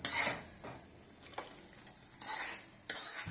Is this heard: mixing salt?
yes